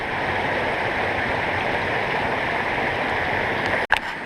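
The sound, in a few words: creek flowing in Zion-Bryce area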